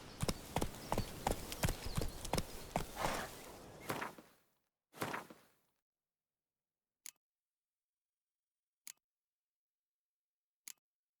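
Horse galloping in The Witcher 3, a quick run of close hoofbeats for about four seconds that stops abruptly, followed by silence with a few isolated sharp clicks.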